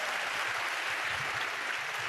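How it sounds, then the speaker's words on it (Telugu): A church congregation claps loudly and steadily in a dense, continuous wash of applause with no gaps, no voices standing out. "గట్టిగా చప్పట్లు కొడుతూ స్తోత్రాలు చెప్తా."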